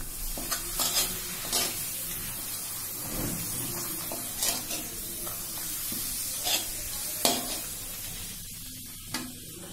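Papad frying in hot oil in a pan while being stirred, giving a steady sizzle with repeated scraping stir strokes, close and alone.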